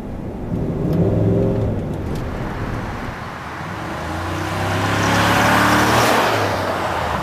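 A 2015 Cadillac Escalade 4x4 with a 6.2 liter V8 accelerating hard, a deep rising engine roar that swells, eases briefly, then climbs again with a strong low-end rumble and no talking.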